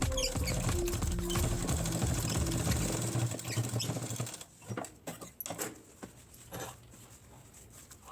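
A sewing machine stitches a cloth purse made from waste fabric pieces, its motor humming steadily and nearby for several seconds before stopping, followed by scattered light taps and handling noises.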